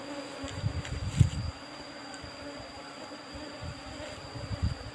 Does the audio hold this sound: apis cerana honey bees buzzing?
yes